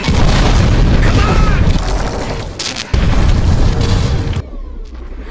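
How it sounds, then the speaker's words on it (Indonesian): Loud, booming film-effect explosion as a body is blown up during a creature attack, with a deep rumbling blast sustained for several seconds before dropping off abruptly. "Bozo yang gak punya pilihan dengan terpaksa meledakkan tubuh Harley yang sedang dimangsa"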